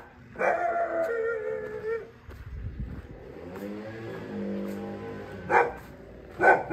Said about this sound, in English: Little puppy.